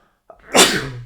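One sharp, close sneeze: a quick intake of breath followed by a loud burst, then quiet.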